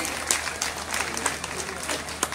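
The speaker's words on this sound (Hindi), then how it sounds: "तालियां कम नहीं होनी चाहिए जब तक वह स्टेज से निकलना जाए" Listeners at a church youth convention applaud after a hymn performance, a continuous wash of moderate clapping with a few sharper claps standing out over a low, steady hum.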